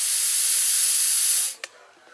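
A hookah being purged, air blown back through the valve, gives a loud, steady hiss for about a second and a half that cuts off abruptly, followed by a brief click.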